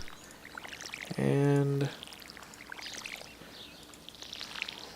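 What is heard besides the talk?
watering crops with a watering can in Stardew Valley video game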